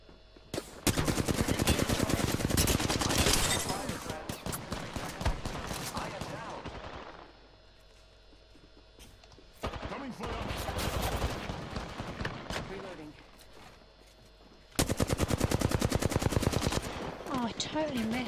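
Rapid automatic gunfire in the game Apex Legends comes in three long, loud bursts separated by short pauses, with sharp dense shots.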